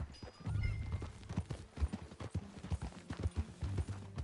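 Horse hooves in Red Dead Redemption 2 clop in an uneven walking rhythm, close and fairly clear, with soft low rumbles between the steps and no speech.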